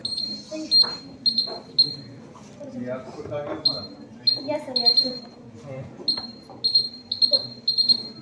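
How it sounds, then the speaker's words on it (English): A student's earthquake alarm model at a school science exhibition gives short, high-pitched electronic beeps in irregular clusters. The beeps sound repeatedly over crowd chatter and nearby voices. "Now I'm going to explain the working of my model, the earthquake alarm."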